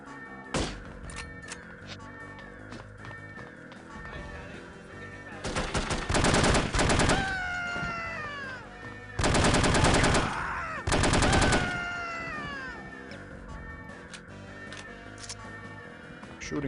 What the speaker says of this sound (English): Shooting is more fun anyway.